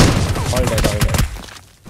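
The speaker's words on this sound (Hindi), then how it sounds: "स्कूल से शॉट्स आ रहे हैं" Gunfire in a battle royale video game final zone, rapid thudding shots and booms packed together under excited overlapping voices, loud and busy.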